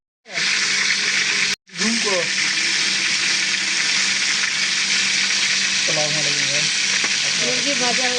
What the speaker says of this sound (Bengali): মুরগি ভাজা হইতেছে